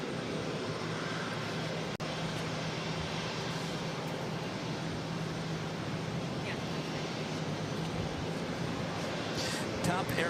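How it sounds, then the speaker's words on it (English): A Southwest Airlines Boeing 737 MAX 8 jet airliner takes off at Boston Logan Airport, heard as a loud, continuous roar that holds steady throughout, with a faint click near the start. "Next takeoff is Southwest Airlines Flight 1223 heading to Nashville, Tennessee, a 737 MAX 8."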